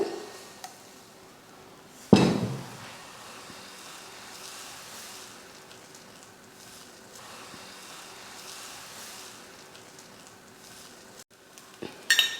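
Wheat dosa batter hits a hot griddle with a sudden loud sizzle that fades into a soft, steady hiss, with faint utensil clinks near the end.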